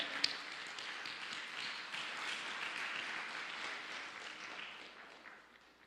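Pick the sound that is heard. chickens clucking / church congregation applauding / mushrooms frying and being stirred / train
church congregation applauding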